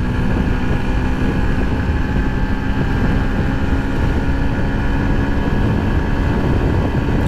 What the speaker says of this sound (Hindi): अब इंजन बहुत ज़्यादा आवाज़ करने लग गया।